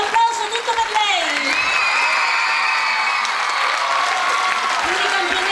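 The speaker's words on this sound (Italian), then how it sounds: "Grandissimo applauso tutto per lei." An audience at a 2011 dance school recital and award ceremony applauds, steady clapping that rises quickly and holds, with a cheer and a loud, close voice over it at the start.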